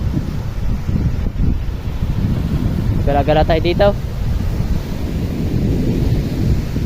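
Strong wind by a river batters the microphone in a constant low, rumbling roar, while someone speaks briefly over it partway through.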